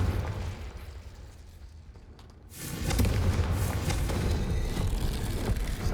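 Confringo explosion spell blasting in the video game Hogwarts Legacy: a quieter stretch of game ambience, then an abrupt loud explosive burst that rumbles on steadily for several seconds.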